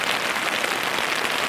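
Rain falls steadily on a camp in West Sweden, a dense, even hiss that lasts the whole short stretch with no other sounds.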